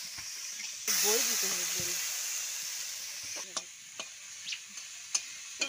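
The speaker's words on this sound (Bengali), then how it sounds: "এখন নাড়াচাড়া করে নেবো, একটু ভালো করে কষে নেবো" Vegetables with spices fry in a pan, a loud hiss rising suddenly and then fading to a softer sizzle, with a few stirring knocks toward the end; a voice speaks briefly during the sizzle.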